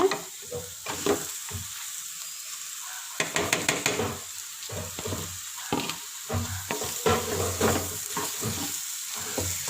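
A spoon stirs a potato and fish cutlet mixture frying in a pan, giving repeated scraping strokes over a steady background sizzle, close and fairly loud with no talking.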